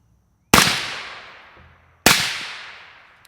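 Two suppressed rifle shots from a 16-inch barrel fitted with a Wolfpack Armory Disruptor 36L suppressor on setting 4 crack out about one and a half seconds apart, each a sharp loud report with a long fading tail outdoors.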